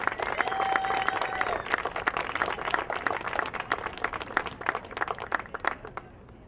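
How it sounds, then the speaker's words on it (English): A crowd gives a round of applause for the players and teachers at a Kimberly versus Oshkosh West school sports event, heard as dense, steady clapping with a few shouts that gradually thins and fades out. "Let's have a round of applause for the players and the teachers."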